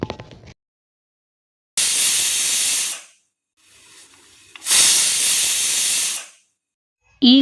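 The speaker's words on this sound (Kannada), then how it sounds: "ಈಗ ಕುಕ್ಕರ್ 1 ವಿಷಲ್ ಕೂಗ್ಯಾತ್ರಿ" A pressure cooker holding a beans palya mixture lets out two loud, sustained whistling bursts of hissing steam, separated by a short quiet gap with a softer hiss.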